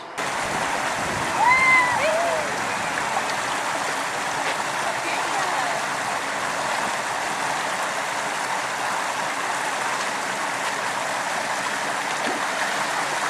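Steady rushing water flows continuously, a broad even wash with a few brief bird chirps near the start.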